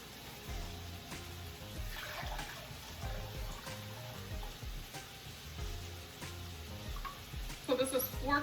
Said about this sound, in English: now that all my rice is nice and coated, I want to add 5 cups of water.